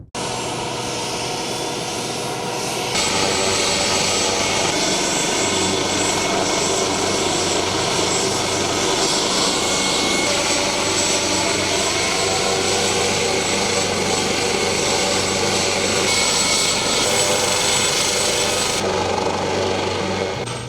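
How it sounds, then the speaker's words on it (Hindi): A loud, constant AW139 helicopter engine roar with a high turbine whine, running steadily nearby throughout as it prepares to fly. "AW139 हेलीकॉप्टर जो मेरे पीछे आप देख सकते हैं इस वक्त तकरीबन प्रिपेयर हो चुका है फ्लाई करने के लिए"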